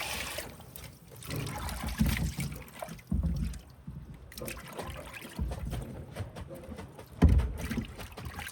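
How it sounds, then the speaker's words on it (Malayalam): Water splashes and trickles as cleaned anakozhuva fish are rinsed after cutting, with uneven sloshing bursts close by and no speech. "നന്നായിട്ട് വെള്ളത്തിൽ കഴുകിയെടുക്കണ ഒരു കാഴ്ചയുണ്ട്"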